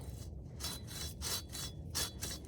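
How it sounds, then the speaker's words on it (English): A hand pruning saw cuts through a tree branch in a run of quick back-and-forth rasping strokes, about six of them, close and moderately loud. "I'm going to saw all the way through the branch"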